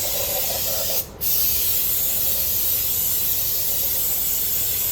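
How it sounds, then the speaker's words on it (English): A single short burst of brake parts cleaner sprayed onto LS engine heads and block parts, a brief sharp hiss lasting a fraction of a second against a steady background of shop noise. "Some brake parts cleaner, let it soak in here a little bit."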